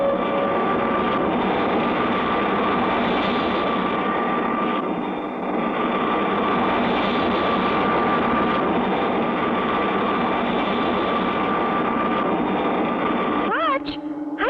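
A cartoon spacecraft engine drones loudly and steadily as the ship makes passes over Mars, a continuous jet-like roar with slight swells, ending in a brief warbling sweep.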